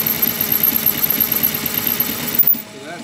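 Lathe cutting metal for a go-kart gearing modification, a close steady rhythmic whirring and chattering that cuts off near the end.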